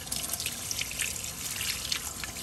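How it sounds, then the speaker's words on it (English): Water runs and splashes steadily from a tap while makeup brushes get a final rinse, a close, continuous wash with soft dripping and trickling underneath. "And then you do your final rinse."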